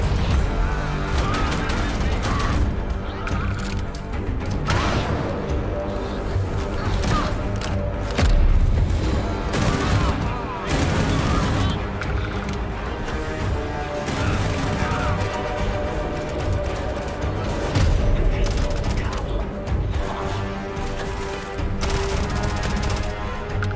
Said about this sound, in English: There's so many different guns